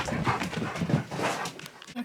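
Several dogs play indoors, panting heavily with scuffling and a few soft yips, close and continuous through the short stretch.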